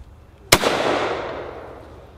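One loud, sharp report from a Norwegian Krag 1912 carbine firing 6.5 ammunition, followed by a long, fading outdoor echo that rolls on for over a second.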